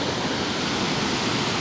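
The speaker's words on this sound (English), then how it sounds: "Look at them waves!" Big swell waves break on the shore at Playa El Socorro in Tenerife, a loud continuous roar of surf and wash filling the sound, with no voices heard.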